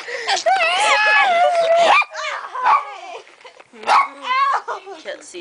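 A dog gives high whimpering yips and whines mixed with short barks, close and fairly loud, in bursts across the stretch with brief pauses, while a person is nearby.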